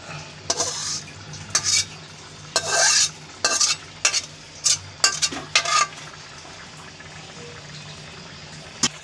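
Chicken pieces for biryani being added to a hot pot and stirred, loud sizzling and frying bursts in irregular scrapes and stirs over a low steady hum.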